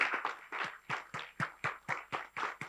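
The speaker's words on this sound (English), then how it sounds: "So a round of applause for them," Scattered clapping from a small conference audience, sharp separate claps at a steady, somewhat sparse rhythm, fairly faint and with no talking over it.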